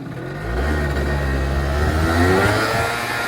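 A stock Yamaha Zuma scooter engine revs steadily and loud from close by during a test ride, its droning pitch rising and falling with the throttle for a few seconds, with no talking.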